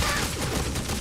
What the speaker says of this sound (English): Stealth Elf has traded in her daggers for this awesome splinter cannon, her ranged attack will make taking them out really easy